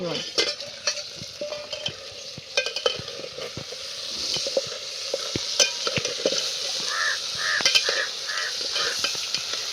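Vegetables for masale bhat, finely chopped potato and green peas with turmeric and salt, sizzle in a pan while a spoon repeatedly stirs and scrapes, sharp clinks punctuating a continuous frying hiss.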